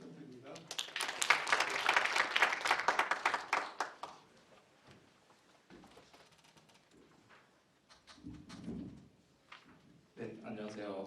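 Brief burst of audience clapping at a smart construction technology seminar, loud for about three seconds then dying away into quiet room noise with a few faint sounds and a voice at the end.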